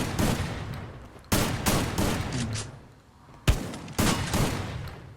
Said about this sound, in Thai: เดี๋ยวเข้าไปยิงเขาแล้ว